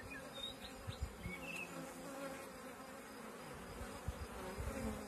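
Honeybees swarm and drone at an open beehive during queen cell inspection, a steady dense buzz filling the air with individual bees zipping close by now and then.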